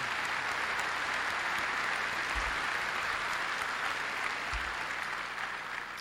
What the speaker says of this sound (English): you should give him a hand